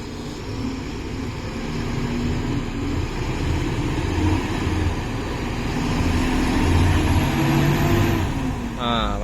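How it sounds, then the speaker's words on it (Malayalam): A vehicle engine labouring as it is driven through deep mud, a sustained mid-pitched drone that swells and revs harder toward the end, with a continuous rumble beneath. "അപ്പം നമ്മുടെ വണ്ടി രണ്ടും കൽപ്പിച്ച് എടുക്കുന്നുണ്ട്"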